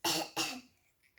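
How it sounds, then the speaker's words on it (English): A nine-year-old child gives two quick pretend coughs in a row, close and loud, then a brief throat sound as it fades out, with no other talk. "I pretend to cough just like Pedro Poggy"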